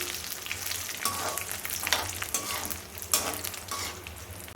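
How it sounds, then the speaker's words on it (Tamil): Ingredients for pulikaichal, a South Indian tamarind rice mix, roasting in hot oil until golden, giving a steady crackling sizzle with soft stirring scrapes and occasional louder pops, close and with no talking. "பொன்னிறமாக வறுத்து எடுத்துக்கலாம்"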